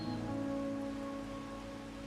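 Steady rain falls in the video game Wuthering Waves, an even, continuous hiss with soft sustained musical tones beneath it and no voices.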